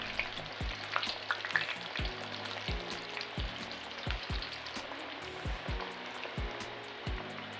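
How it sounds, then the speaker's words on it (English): Leftover rice balls frying in hot oil, giving off a steady crackling sizzle with a run of soft, regular pops and bubbling thumps close by, and no talking. "Then I carefully press the rice balls into the hot oil one by one."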